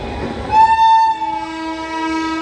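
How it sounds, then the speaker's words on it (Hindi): Lichchavi Express train pulling onto the main line into Prayagraj Junction, its horn sounding one loud sustained blast over the rolling rumble of the carriages. "अब हमारी ट्रेन भी मेन लाइन पे आ चुकी है"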